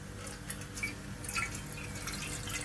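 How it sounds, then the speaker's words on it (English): Full cream milk is poured into a vessel as the first step of making rasmalai, a soft, steady liquid trickle with light drips and faint splashes, close and without talk. "So the first step is to pour milk inside."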